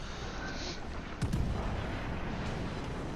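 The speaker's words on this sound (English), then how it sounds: "And got my main guns I'm shooting at him." Warship main guns fire in the naval video game World of Warships Legends, a single deep heavy boom partway through over a constant battle rumble and hiss.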